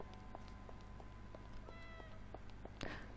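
Cat meowing in Gravity Rush 2: several short mews repeat at a steady pace over a game music bed, ending with a louder, sharper cry near the close.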